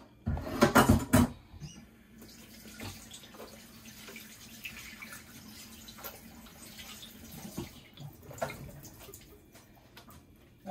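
Water runs briefly from a tap into a kitchen sink while salmon is prepared; a loud splashing burst lasts about a second at the start, then only faint clinks and handling noises remain.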